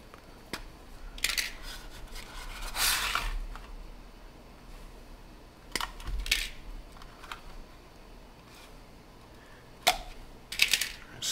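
Wire being cut into short lengths with a cutting tool, several sharp metallic snips and clicks spaced apart over a quiet background, close and fairly soft.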